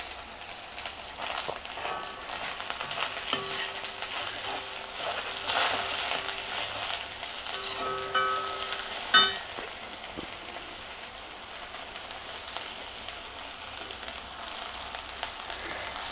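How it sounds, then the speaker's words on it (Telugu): Rice is added to a pan of fried tindora with turmeric on a stove just switched off, giving a soft, steady sizzle. Scraping and stirring sounds come through it, with a clack near the middle. "ఇప్పుడు అన్నం వేసేసుకుందాం"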